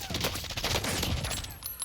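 Rapid bursts of M13 rifle fire loaded with blackout rounds in the Warzone battle royale game, a dense rattle of automatic shots with a faint voice underneath.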